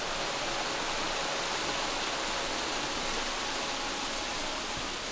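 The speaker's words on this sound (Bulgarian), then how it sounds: "Водният пад е скромните 15 метра, като за толкова малък водопад обаче е много красив и много живописен." A small 15-metre forest waterfall on an eco-trail near Sveti Duh village splashes in a constant, even rush of white water, steady and fairly close, with no one speaking.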